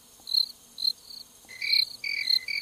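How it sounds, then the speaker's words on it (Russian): Crickets chirp in short, high trills, with a few separate bursts at first and then denser overlapping calls from more than one insect, clear against a quiet background. "Сверчки?"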